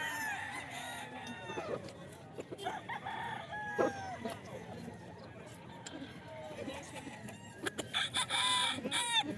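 Several roosters cluck and crow around a gamefowl yard in Bocaue, repeated rising crows over scattered clucking at moderate distance, with someone talking throughout.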